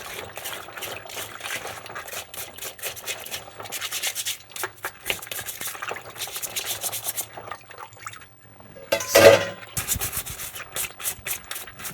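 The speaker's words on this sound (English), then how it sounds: "You gotta wash this with a brush, kitchen brush." A kitchen brush scrubs raw crabs in repeated bursts of wet, gritty rubbing, close and fairly loud, with a short pause and a brief water splash before the scrubbing resumes; nobody speaks.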